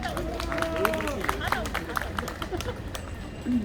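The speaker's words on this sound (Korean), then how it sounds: "큰 박수 부탁드리겠습니다" Audience at an outdoor residents' committee protest rally clapping for the next speaker, a steady near round of applause mixed with crowd murmur and voices.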